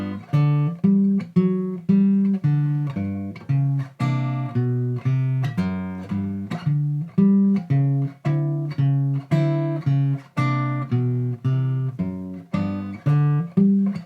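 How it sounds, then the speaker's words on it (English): Guitar playing a walking bass line, a full chord struck on the first beat of each bar: steady plucked single bass notes in an even four-beat walk, close and clear, with no talking. "we're going to hit a full chord and continue with the bass line"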